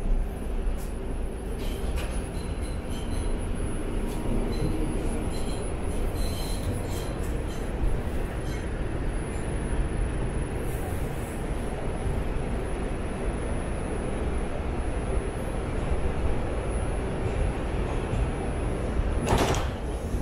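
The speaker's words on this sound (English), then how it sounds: "This is a Manhattan-bound 5 local train. The next stop is Freeman Street. Stand clear of the closing doors, please." Steady rumble of a Manhattan-bound 5 local subway train stopped at a station in New York City, with rattling carriage noise and brief sliding, thudding sounds of doors closing near the end.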